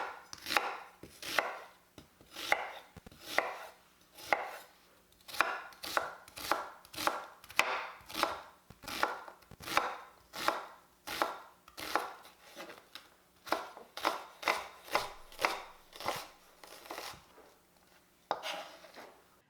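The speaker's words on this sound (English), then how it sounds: "we're going to get started with a large onion that I'm going to roughly chop" A large onion is roughly chopped on a board with a knife, giving a steady run of about thirty crisp, close thuds at a brisk, even rhythm.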